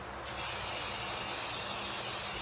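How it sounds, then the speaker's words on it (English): A steady, hissing spray from an aerosol can of heavy-duty silicone, used during a rear brake repair on a 2004-2011 Ford F-150, starts abruptly and continues evenly, close and loud, with no voices. "spray it down with some heavy duty silicone"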